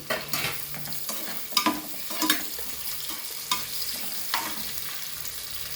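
Long-sliced onion sizzles in hot oil with curry leaves in a pan for methi palav, a steady frying hiss broken by several scraping stirs, close and fairly loud with no talk.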